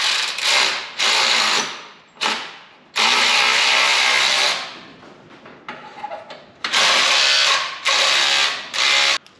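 Exhaust hanger bolts on a Lexus IS250/350 being tightened with a ratchet during a Revel Medallion exhaust install, loud close bursts of rapid clicking in several separate runs with short pauses between.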